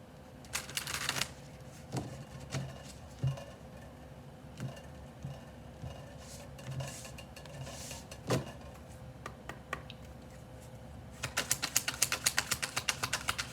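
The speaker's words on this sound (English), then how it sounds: "I'm gonna shuffle the cards a couple of times" Tarot cards riffle in short bursts with scattered soft taps between them, ending in a longer fast riffle, close and fairly quiet.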